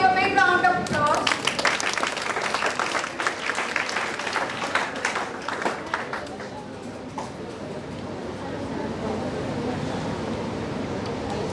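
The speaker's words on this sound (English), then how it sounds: "Please give a big round of applause." Applause from an audience at an academic entrepreneurship and innovation event as a guest is invited onto the stage: dense, loud clapping for about six seconds, then thinning and fading into room noise.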